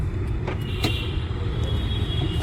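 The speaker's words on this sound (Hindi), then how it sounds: "गाड़ी एकदम स्टेशनरी पे फर्स्ट गियर पे निकालेंगे" A car pulls away from standstill in first gear with a steady, close low engine rumble, a few faint clicks above it and no talking.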